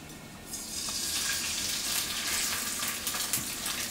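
Sea bass fillets laid skin side down in a hot pan, bursting into a loud, close, continuous hiss of frying that holds steady.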